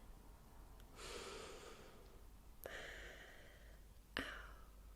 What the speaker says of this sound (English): Now take a deep breath in.